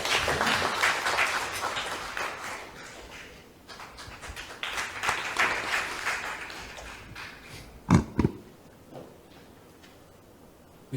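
Scattered clapping from an audience at a Korean party candidates' joint campaign rally, moderate and uneven, swelling and easing with a couple of sharp thumps near the end.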